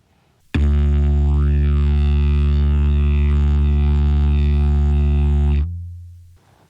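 A didgeridoo played by a struggling beginner: one loud, steady low drone held for about five seconds with wavering upper overtones, then cutting off abruptly, heard alone.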